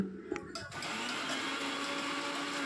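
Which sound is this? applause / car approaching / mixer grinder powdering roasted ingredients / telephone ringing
mixer grinder powdering roasted ingredients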